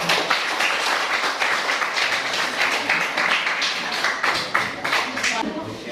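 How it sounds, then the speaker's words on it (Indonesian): A classroom audience claps together at the close of a group discussion, a dense, steady patter of many hands running throughout, loud and continuous with some voices mixed in. "kita berikan aplaus kali ini"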